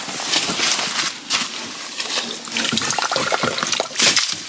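Water gushes and splashes up through a freshly drilled hole in river ice on a winter grayling fishing trip, a loud, close, continuous churning wash with surging bursts and no talking.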